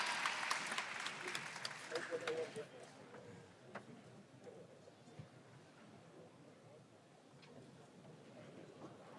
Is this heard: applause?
yes